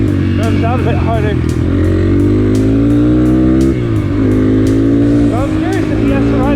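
A GPX FSE250E motorcycle engine with a 4-degree timing mod revs hard and loud nearby, its pitch climbing and dipping repeatedly with sharp ticks over a steady roar.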